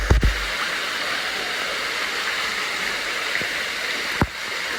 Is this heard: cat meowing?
no